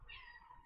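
A house cat lets out a single short, faint meow with a rising whine, heard alone in a quiet room.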